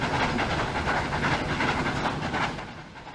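A VR Class T2 locomotive in the Trainz game climbs a hill with a steady, loud rumbling chug and hiss, rhythmic pulses running throughout before fading slightly at the end.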